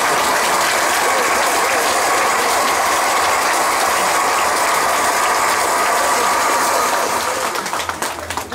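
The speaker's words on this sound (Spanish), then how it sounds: "vamos a dar un fuerte aplauso a nuestros hermanos" Wedding guests in a church give the newly married couple a strong, sustained round of applause, dense and even throughout before tapering off at the end.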